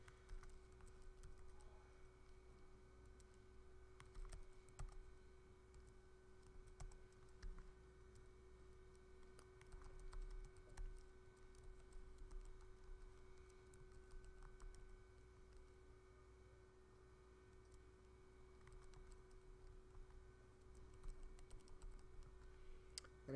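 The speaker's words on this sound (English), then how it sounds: "And after we're done typing them in," Team names being typed on a computer keyboard, a steady patter of light key clicks running throughout at close range, fairly quiet, with no talking.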